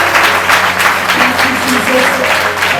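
A church congregation in Bathinda, Punjab claps steadily and fairly loudly throughout, a dense wash of applause with a faint voice underneath.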